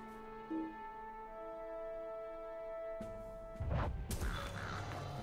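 Crows cawing in the fantasy video game Lord of the Rings Online, a few harsh calls over steady ambient game music, followed by a burst of loud combat crashes and whacks near the end.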